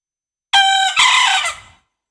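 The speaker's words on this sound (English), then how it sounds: "This is the sound from Bekisar." A Bekisar chicken crows in a played-back recording, a loud, close, two-part call with a bright harmonic first syllable and a rougher, longer second one, heard alone.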